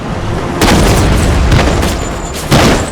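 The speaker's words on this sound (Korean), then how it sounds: "이것이 바로 폭발탄이다" Mortar shells explode in a naval battle in the strategy game Empire: Total War, with loud, deep booms near the start and again near the end over a rumbling battlefield din.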